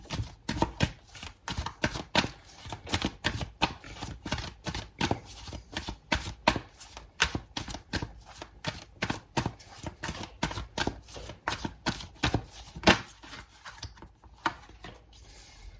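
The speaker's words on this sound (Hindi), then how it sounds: "मैं जो है वो कार्ड्स थोड़े से शफल पहले करूँगी" A Wisdom Oracle card deck is shuffled by hand close up, producing a long run of quick papery riffles and slaps in an irregular rhythm, with no voices.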